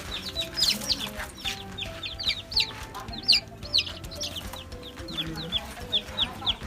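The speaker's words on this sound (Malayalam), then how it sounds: "നാടൻ കോഴികളുടെ കുഞ്ഞുങ്ങളാണ്" A crowd of native chicken chicks cheeping constantly, many high, thin peeps overlapping at close range, with faint background noise.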